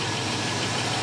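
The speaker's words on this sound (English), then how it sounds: "Got a video here of my small block Chevy in my 1984 Oldsmobile Delta 88." A small block Chevy 350 with a freshly fitted intake and Holley carburetor, mounted in a 1984 Oldsmobile Delta 88, runs in a steady, close, loud idle with no pauses.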